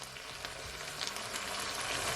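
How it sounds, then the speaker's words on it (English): Pepper steak cooking on a stove gives off a steady, moderate sizzle and bubbling as liquid goes in, close and continuous, with no voice. "I'm gonna add my liquid"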